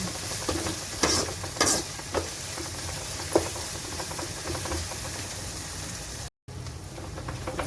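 Ginger and garlic sizzle steadily in a hot pan, with scattered clinks and scrapes of a spoon stirring, and a brief dropout near the end.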